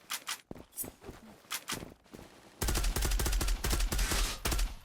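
Gunfire in the online shooter Zula: scattered single shots and short bursts at first, then a dense sustained stretch of rapid automatic fire with heavy low thumps, close and loud, with no talking.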